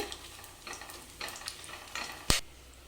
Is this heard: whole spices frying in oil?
yes